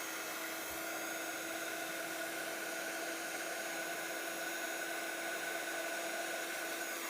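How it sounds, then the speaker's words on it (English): A handheld heat tool melts super fine embossing powder on a stamped card, giving a constant, steady fan whine and airy hiss with a fixed tone throughout and no talking. "And then we can take our heat tool."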